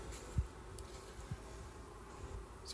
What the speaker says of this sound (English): It's a bit of a stack of bees there that I just break apart, looking for the queen.